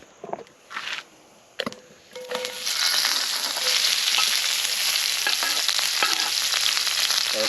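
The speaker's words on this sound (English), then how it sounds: "We're going to saute these vegetables until they soften up a bit" Vegetables sautéing in olive oil in a pan over an open wood fire: a steady, close, bright sizzle that swells in after a few knocks and clatters, then holds loud and continuous with small crackles.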